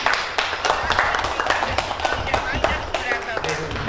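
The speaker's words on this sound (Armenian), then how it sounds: "Բրավո, մեր ծափերը" Audience applause for Hripsime Avetisyan at a stage event, brisk irregular clapping from a crowd with a voice talking over it.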